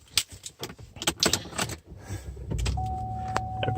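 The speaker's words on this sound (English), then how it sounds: "Let me jump into this vehicle, turn it on for you guys." Keys jangle and rattle in short bursts as someone settles into a 2017 Chevrolet Impala LT, then the car is switched on, leaving a low steady hum with a faint electronic tone.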